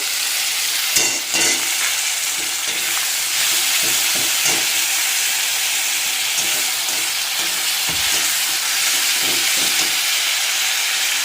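Steady, loud sizzling of tomato paste frying in a pan for potol kofta, a continuous hiss with occasional crackles and stirring scrapes, with no talking.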